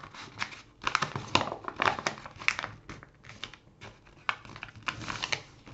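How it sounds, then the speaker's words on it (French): Paper for a junk journal is folded and creased by hand, giving close crinkling and rustling in uneven bursts with short gaps, no talking. "Et on va plier de l'autre côté."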